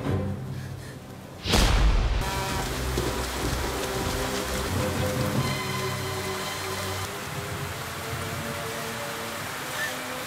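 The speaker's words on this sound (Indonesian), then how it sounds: "tak lama kemudian hujan deras pun turun" Heavy rain pours steadily, a dense hiss of drops that swells suddenly after a sharp burst, with faint musical tones running underneath.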